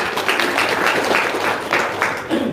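Applause and clapping from an audience at an Indonesian talk gathering, dense and steady for a few seconds at moderate loudness, with some voices mixed in.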